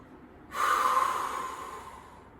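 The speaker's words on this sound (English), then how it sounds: "Always deep breaths." One deep breath during a core stability workout, a sudden breathy exhale or sniff that starts halfway through and slowly fades, close and fairly loud with no talking.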